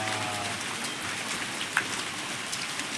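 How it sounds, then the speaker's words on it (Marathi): Steady rain mixed with small hailstones pattering on a farm field, a dense wash of drops with one brief sharper tap. "पाऊस पडला आमच्याकडे. हे बघा, गारा पण पडल्या."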